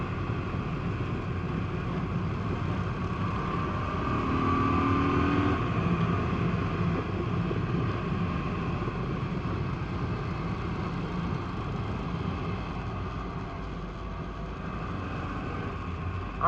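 A cheap motorcycle rides the winding Tail of the Dragon road, its engine giving a steady, continuous drone. The loudness swells slightly partway through as the bike accelerates, and no one speaks.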